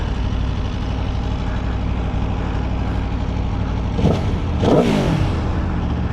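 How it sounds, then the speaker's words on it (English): A stock Aprilia Tuono V4 motorcycle pulls steadily while riding, its engine droning loud and close, then two sharp throttle blips rise and fall near the end. "Do like the throttle response with this machine."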